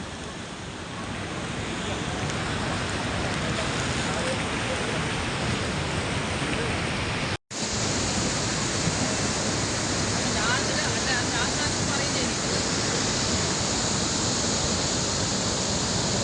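Steady, loud rushing water of a river formed by a landslide at Chooralmala, Wayanad, roars without pause, a dense broadband wash with a brief cut midway, and no voices.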